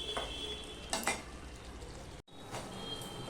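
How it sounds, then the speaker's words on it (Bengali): Chicken curry being stir-fried in a pan, with a steady close sizzle, scraping spatula strokes and a couple of louder metallic knocks, briefly cutting out before resuming; no talk. "এবার আমি মাংসটা এইভাবে কষিয়ে নেব, ঠিক এইভাবে।"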